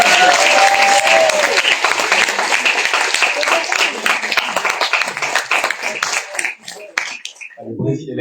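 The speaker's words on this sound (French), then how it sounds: "Donc ça mérite des applaudissements." Audience applauding prizewinners at a Francophone awards ceremony, loud sustained clapping that begins under a speaking voice, continues strongly for several seconds, then breaks up into scattered claps before a voice resumes.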